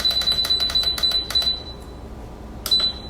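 Mealthy CrispLid air fryer lid timer button pressed repeatedly, giving a rapid series of short, sharp electronic beeps in quick succession, then a pause and one more beep near the end; close and clear with no talking.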